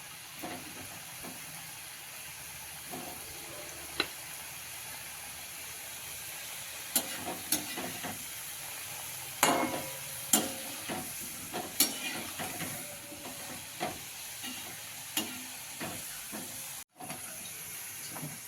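Traditional jaggery gadgeel fritters deep frying in hot oil, giving a soft continuous sizzle and hiss with scattered faint clicks and taps of a utensil, heard alone at moderate distance.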